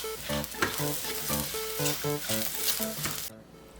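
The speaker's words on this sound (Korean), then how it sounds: "올리브유 한 번 더 넣고 볶아주세요. 소금, 후추를 조금 뿌리고 볶아주세요." Vegetables being stir-fried in olive oil seasoned with salt and pepper for an arugula salad, a steady sizzle under a melodic music track, which stops abruptly near the end.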